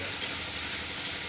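Shrimp frying with turmeric, chili and salt in a pan, a continuous close sizzle and hiss running evenly through the brief moment with no clear strokes or voices.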